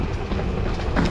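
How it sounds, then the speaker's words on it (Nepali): A train pulls into a station on a hiking trip to Dobongsan, Korea. It makes a loud, continuous rumble and rattle that stays level throughout, with no speech. "ट्रेन आयो ट्रेन आयो"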